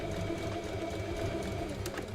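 A sewing machine runs steadily for about two seconds while stitching small doll-sized clothes for a model kit, a continuous whirring hum with a faint mechanical clatter, close by and with no talking.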